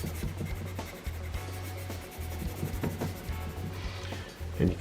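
A yellow colored pencil is burnished on paper, a soft, close rubbing and scratching of short strokes, quiet and uneven in rhythm, with a faint low hum underneath.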